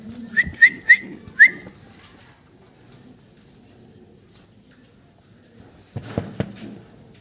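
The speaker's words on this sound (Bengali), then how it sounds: "আমরা অসাধারণ সুন্দর আর একটা জোড়া দেখতে পারতেছি ভাইয়ের কাছে হেলমেট কবুতর" A pair of helmet pigeons kept by a fancy pigeon seller makes a few short, bright whistling calls near the start, then soft murmuring and a late burst of nearby fluttering and shuffling.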